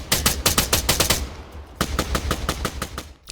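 A soldier firing in the Arma 3 video game: rapid automatic gunfire in two bursts of evenly spaced loud shots, separated by a brief pause.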